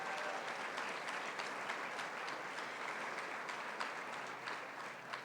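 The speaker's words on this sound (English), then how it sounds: "Big rounds of applause, please." Sustained audience applause at a women's leadership summit, a dense steady wash of many hands clapping throughout, with no speech over it.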